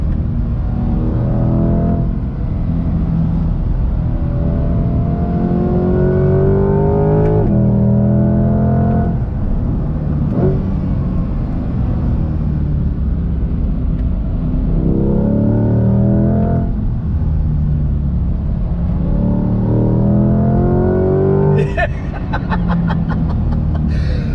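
A 2020 Chevy C8 Corvette Z51 engine under way on the road, a loud continuous rumble rising and falling through several accelerations and gear changes, ending in a brief rattling burst.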